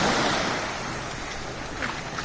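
Ocean surf washes up on Devbag beach in a steady, close roar of breaking water, mixed with wind buffeting the microphone and no speech.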